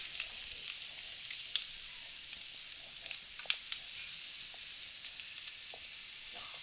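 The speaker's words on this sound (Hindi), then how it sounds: "अच्छे से भून लेंगे।" Vegetables for a creamy white sauce pasta sauté in a pan with salt, giving a faint, steady sizzle with a few soft scrapes and ticks and no talking.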